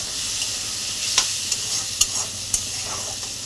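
Spice paste of cumin, coriander, chili and turmeric powders with a little salt stir-fried in a pan for Bengali banana blossom chops, a steady close sizzle broken by a few sharp spoon scrapes and taps, no talking.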